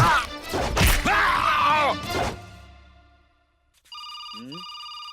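Someone talks loudly and emotionally, then after a short silence an electronic phone ringtone starts, bright and clear, repeating warbling tones.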